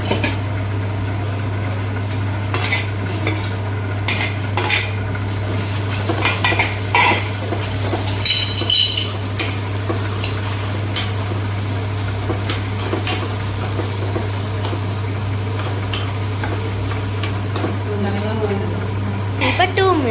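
Garlic frying in a pan for a kara kuzhambu with fenugreek, with spoon scraping and clinking against the pan over a steady sizzle while a person talks.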